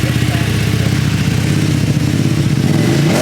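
A Ducati Streetfighter V2 fitted with an Arrow exhaust, baffle in, idles and revs with a loud, steady low rumble that rises in pitch toward the end, with a voice talking over it.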